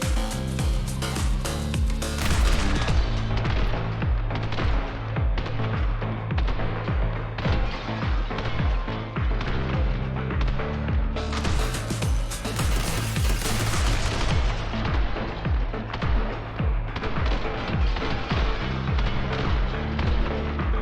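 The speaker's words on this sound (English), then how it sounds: "Shotgun." Dense, continuous gunfire in the top-down shooter The Hong Kong Massacre, with loud shotgun blasts and rapid repeated shots packed over a driving music track, nearly unbroken throughout and peaking in a furious burst around the middle.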